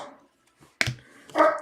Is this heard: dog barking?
yes